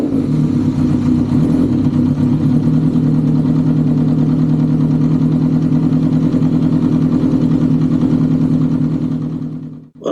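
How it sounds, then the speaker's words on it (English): A Honda CB750 motorcycle idles with a lumpy, uneven pulse, holding a steady close-up rumble before a brief sharp break right at the end. "the idle's very lumpy, and every now and then there's a little backfire out of the back of the exhaust"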